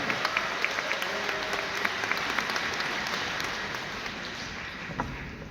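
Applause from a concert audience in a gymnasium during a live Korean pop music show, a dense, steady wash of clapping that runs the whole time at a moderate distance, easing slightly toward the end.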